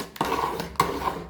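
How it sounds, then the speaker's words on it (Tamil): Two sharp scraping strokes of a spoon against a pot as ragi porridge is stirred, each followed by a brief rumbling drag through the thick mixture. "இப்போ ஒருத்தங்க ஊற்றிக்கிட்டே இருக்கணும், கிண்டிக்கிட்டே இருக்கணும்"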